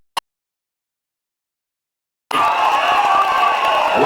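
A crowd at a political rally in Mathira cheers and claps after a brief click and two seconds of silence, a loud, sustained wash of voices and applause.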